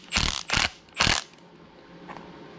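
A ratchet tightens a freeze plug into a junkyard LS engine block, giving three quick, loud clicking bursts close by, then a faint trailing click.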